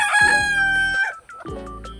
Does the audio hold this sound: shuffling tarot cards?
no